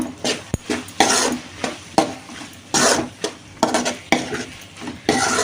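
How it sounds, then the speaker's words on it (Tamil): A spoon stirs brinjal and tomato curry in a pan, scraping and clinking against the metal in quick irregular strokes over a faint sizzle, close and fairly loud, with no voices. "இங்கே கொஞ்சம் போட்டுக்கோங்க போட்டு மறுபடியும் நல்லா மிக்ஸ் பண்ணிடுங்க"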